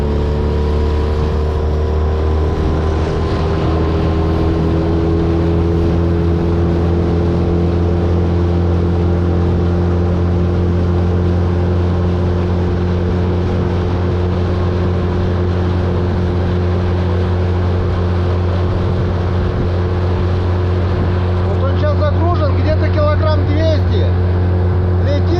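A boat running on a new four-stroke outboard motor, a steady loud engine drone with constant hum throughout, water noise around it, shifting slightly near the end.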